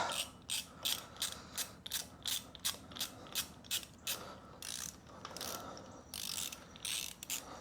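A socket ratchet clicks in quick repeated bursts as it loosens the spark plug from cylinder six of a 200 inline-six engine out of a 1967 Mustang, close and loud, in steady rhythmic strokes with brief pauses between.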